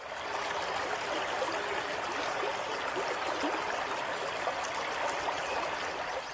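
A strong river current pulls steadily in a flood, its broadband rushing and gurgling water continuous and fairly close throughout, with no voices over it.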